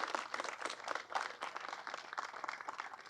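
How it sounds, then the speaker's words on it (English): Audience applause for the ministry at a school event at St. Leonard's Boys School, a steady dense patter of many hands clapping throughout without pause. "Round of applause for the ministry"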